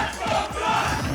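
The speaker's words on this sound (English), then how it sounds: "the crowd going crazy" A tournament crowd at a Super Smash Bros. Wii U match roars loudly and continuously, with shouts rising and falling through a dense wall of cheering.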